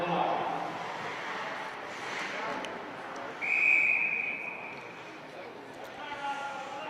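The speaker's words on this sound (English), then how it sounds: "And a whistle with 5:15 remaining in the first." A referee's whistle in a junior hockey game in the GOJHL, Blackhawks against Jr. Canadians, one sustained shrill blast over rink ambience and ongoing commentary.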